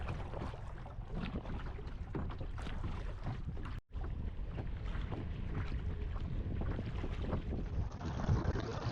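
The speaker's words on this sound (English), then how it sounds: "Wind's picking up now." Steady wind buffets the microphone out on Loch Lomond from a small boat, with broadband rushing and water noise throughout and one brief dropout near the middle.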